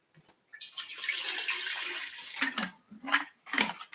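Bottled Deer Park water pours in a steady splashing stream for a couple of seconds, fairly quiet and close, then breaks into a few short separate splashes as the pour ends.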